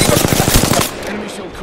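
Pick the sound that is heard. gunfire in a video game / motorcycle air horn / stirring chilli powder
gunfire in a video game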